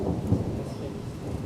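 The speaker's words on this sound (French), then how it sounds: "Vous entendez, hein, le tonnerre." Thunder from a storm, a low continuous rumble with some rain, steady and moderately distant, with no talk over it.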